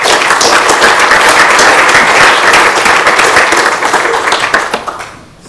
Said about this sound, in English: let's give an applause to our speaker